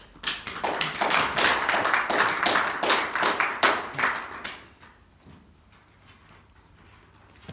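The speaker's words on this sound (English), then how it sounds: "please welcome Stephen with a round of applause." A burst of audience applause at a Toastmasters meeting, steady clapping for about four seconds that fades out into quiet room tone.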